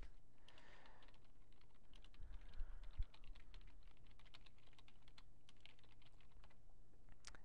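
Quiet keystrokes on a computer keyboard tapping in short irregular bursts across the whole stretch, with a faint low hum underneath and no voices.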